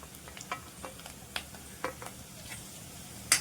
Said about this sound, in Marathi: खोबरं पण चांगलं असं परतून घ्यायचं आहे.